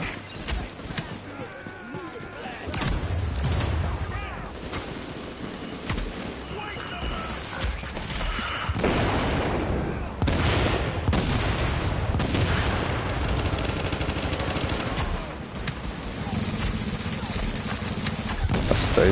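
Rapid gunfire and explosive booms in a shooter video game, dense volleys and bursts running almost continuously at high level, with voices talking over the combat.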